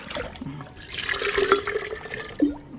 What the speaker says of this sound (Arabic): اشطف تاني، اشطف تاني، اشطف تاني